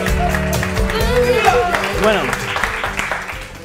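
Studio audience clapping for a guest on a Spanish talk show, a loud burst of applause with a voice speaking over it and music-like tones mixed in.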